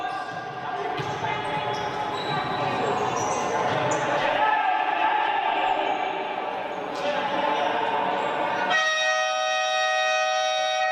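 Buzzer horn sounding at a futsal match in a Spanish third-division game, a long sustained tone arriving after busy court noise and shouting, ringing out clearly alone for the final seconds.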